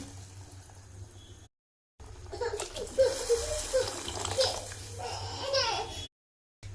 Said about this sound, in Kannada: ಮೂರು ಲೋಟ ನೀರು ಹಾಕೋತೀನಿ ಎರಡು ಲೋಟ ಅಕ್ಕಿಗೆ